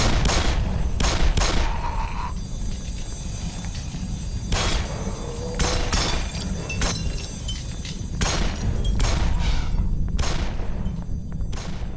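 Gunfire in the video game Black Mesa: loud, sharp shots in irregular bursts, some fired in quick succession, over a constant rumbling background din.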